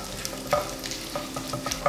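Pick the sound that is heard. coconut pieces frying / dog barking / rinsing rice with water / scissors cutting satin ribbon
coconut pieces frying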